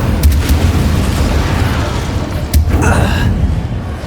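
In Hogwarts Legacy, the Incendio fire spell goes off as a deep burst with a whooshing rumble, then a second, sharper blast of fire follows a couple of seconds later.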